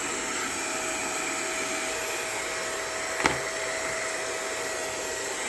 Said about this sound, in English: That one attachment with the brush will suck it in and brush it.